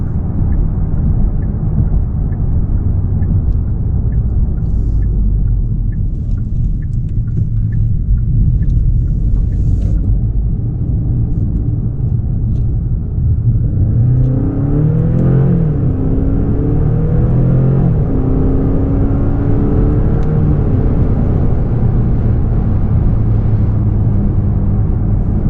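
A Genesis G70 2.5T AWD with a turbocharged four-cylinder pulls hard in sport mode, heard from inside the cabin as a loud, steady engine rumble that rises in pitch through the gears as it accelerates.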